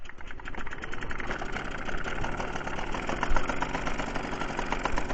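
A Solex 5000 moped engine idling as it warms up on the choke, a close, steady rapid putter with a fine mechanical rattle throughout, no voices.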